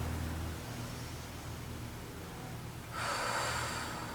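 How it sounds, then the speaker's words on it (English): A person breathes out slowly through pursed lips during a relaxation exercise, a soft steady hiss that swells into a louder airy rush near the end. "You can hear your breath too when you're breathing out through the pursed lips"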